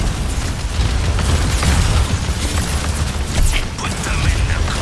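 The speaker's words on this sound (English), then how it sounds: "Put them in the ground. Distributing turrets." Overwatch 2 multiplayer match with turrets being deployed into the ground, a dense clatter of mechanical clicks and pops over constant loud game noise and rumbling bursts.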